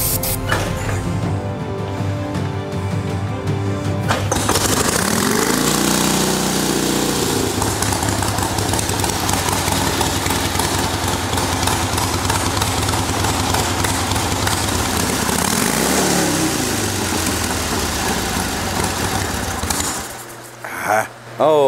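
An old, dirty-carbureted Harley Davidson motorcycle engine catches and runs loud and close, holding a steady rough idle with a few blips of revving before it cuts out near the end.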